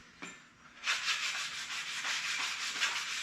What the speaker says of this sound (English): We'll scuff everything down here. Help take some of that surface rust off.